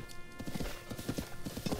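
Horse hooves galloping in Zelda: Breath of the Wild, a rapid, steady clip-clop rhythm at moderate volume over in-game ambience.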